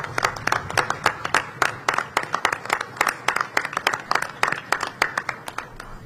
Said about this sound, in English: I think that's worth a round of applause for Customs and Border